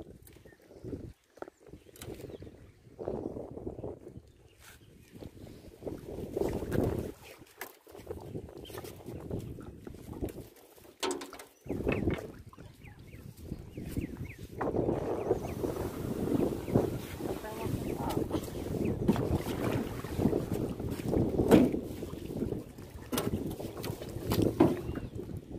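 Strong wind buffets the microphone on a river boat trip during a fishing outing, a steady roaring rush that swells louder in the second half, with people talking intermittently over it.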